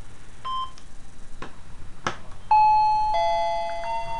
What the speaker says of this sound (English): Both handsets are ringing